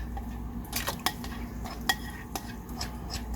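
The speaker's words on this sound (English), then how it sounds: "now I'm going to put my gelatin mixture into this pan and start stirring it up till it all dissolves" Gelatin mixture stirred in a pan off the heat, giving soft scraping and a few sharp utensil clinks against the pan over a faint background hiss, close by, without talk.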